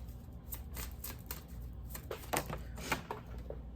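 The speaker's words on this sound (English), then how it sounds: "I like how it feels when I shuffle it" Soft, close rustling and flicking of tarot cards being shuffled, a continuous papery riffle with a few slightly louder snaps, no voices.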